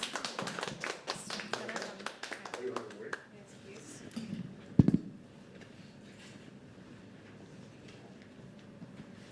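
Audience clapping at a live poetry open mic: a dense burst of hand claps for about three seconds that thins to scattered claps and fades into a quiet room.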